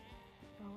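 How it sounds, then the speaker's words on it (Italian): A sheep bleats faintly in the distance on a night of aurora watching, one brief wavering call with a quieter lead-in, heard alone against a still background. "Intanto le pecore di sottofondo che si sentono"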